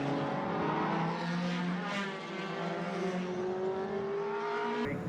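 Gould single-seater race car in Formula BOSS Ireland racing at full power on warm-up laps around a short national circuit, a sustained high engine wail with rising pitch as it accelerates, heard at a distance.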